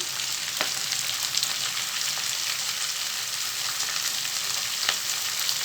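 Chopped carrot and beans stirred while frying in oil in a pan: a continuous, even sizzle close up, broken by a few soft stirring scrapes.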